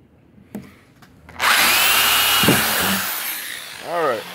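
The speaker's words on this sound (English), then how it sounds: "I am just going to drill right through it" A few faint knocks, then a power drill whirs loudly and steadily through a 55-gallon plastic barrel, winding down before a short voice-like sound at the end.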